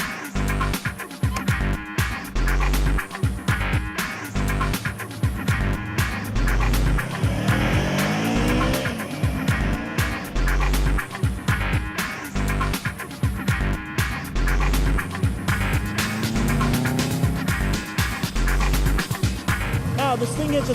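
A Yamaha R3 motorcycle with a 321cc parallel twin engine rides along, its revs rising and falling in repeated sweeping pulls as the rider shifts, loud and close throughout.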